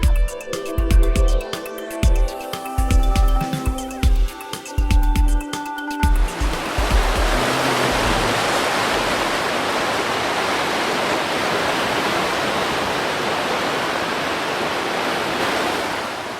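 The Colorado River rushes past as a steady, dense roar of flowing water. It holds constant and fairly loud for the last ten seconds, after a stretch of rhythmic tonal music at the start.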